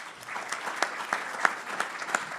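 An audience at a panel event gives a brief, steady round of applause, moderately distant, lasting a couple of seconds.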